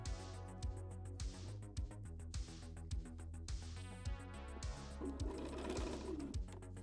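A sewing machine stitches the thumb of a cosplay glove, running in a fast, steady mechanical chatter with brief pauses and speed changes, close and clear, with no talking.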